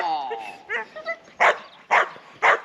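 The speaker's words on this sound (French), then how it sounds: "Ça c'est le chien à Manu." A dog gives a few short high whimpers and yips, then three loud, evenly spaced barks close by.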